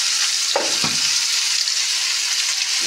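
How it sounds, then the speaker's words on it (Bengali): Something seasoned with salt and turmeric fries in a pan, a constant close sizzle with a couple of quick stirring scrapes near the start. "এবার এটা একটু ভাজা হোক, তারপরে আবার আসছি"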